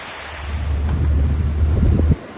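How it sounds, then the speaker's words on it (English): Thunder rumbles low and steady through a pouring rainstorm, heard from under a shed awning at night with lightning nearby, a continuous heavy roar that cuts off abruptly near the end. "The rain's pouring down. Lightning. There's lightning out behind us."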